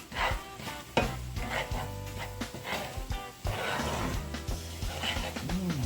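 Garlic sizzles in butter in a pan, with a loud, uneven frying hiss and bursts of stirring and scraping close by, ahead of jerk chicken with pineapple.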